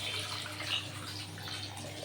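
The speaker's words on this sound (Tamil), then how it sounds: "இப்போ தான் நமக்கு தேவையான அளவுக்கு தண்ணி ஊற்றிக்கலாம்." Water pours steadily into a pot of curry in a soft, continuous splashing stream, fairly quiet and with no voices.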